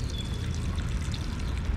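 Water poured steadily onto potted plants, mint among them, set out in hot sun: a continuous soft splashing trickle at close range with no voices.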